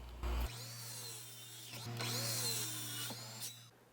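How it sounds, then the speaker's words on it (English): Power saw cutting wooden parts for a ladder treestand, a steady whining motor drone with rising and falling pitch as the blade bites through the wood, loud and close for the whole stretch. "Now cut the 2 seat platform runners at 24 inches."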